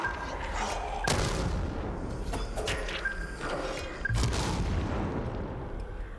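Zombies explode in the video game Dying Light The Beast, giving a few heavy booming blasts spaced a few seconds apart over a busy, rumbling game background.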